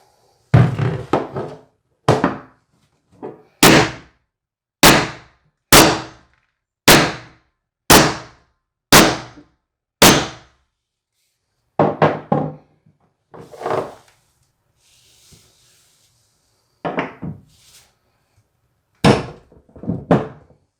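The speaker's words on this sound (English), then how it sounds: "Or maybe I'll just come back with the impact gun." Impact gun working a broken shower bathtub drain loose, firing in a run of loud, sharp rattling bursts roughly every second, then several shorter, softer bursts with pauses between.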